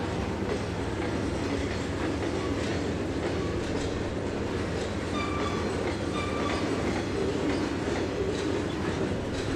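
Old Burlington Northern freight cars, box cars and grain hoppers, roll past in the Trainz 2022 simulator. A steady rumble and clatter of wheels on rail carries on throughout, close and continuous, with no one talking.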